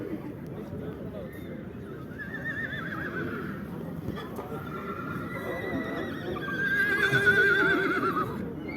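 Horses at the Karakol livestock market, with a loud nearby whinny rising late in the clip over a steady murmur of traders talking and bargaining.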